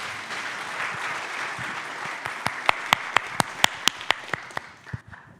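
Audience at a Kubernetes community conference session in Czechia breaks into steady applause, building into a run of sharp, evenly spaced loud claps near the microphone before trailing off.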